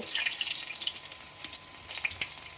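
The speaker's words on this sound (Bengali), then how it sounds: "আলুটা বয়েল করে নিয়েছি, আলুটা ভেজে নেব।" Boiled potatoes fry in hot oil in a pan, with a loud, continuous sizzle and crackle close up and occasional stirring, and no voices.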